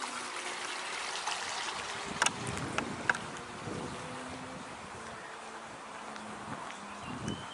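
Water flows steadily along a small stream at the water's edge, a continuous broadband rush with a few brief clicks and knocks nearby and faint buzzing insects in the background.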